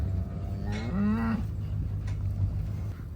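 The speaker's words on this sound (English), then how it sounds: "Well, there's a pretty cow." A cow moos once in a pasture with late-season grass, a loud, close, drawn-out low call over steady outdoor background noise.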